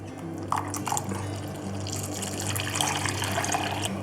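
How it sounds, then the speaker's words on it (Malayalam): Melted jaggery syrup strained and poured onto mashed banana, a continuous liquid trickle with faint dripping, steady and close at low volume. "നമുക്ക് ഈ പഴത്തിലേക്ക് ആ പാനി ഒന്ന് അരിച്ചൊഴിച്ചു കൊടുക്കാം"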